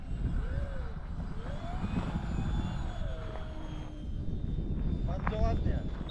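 A 3D-printed PZL.50 model airplane flies overhead with a thin, wavering engine whine over heavy wind rumble. People talk nearby.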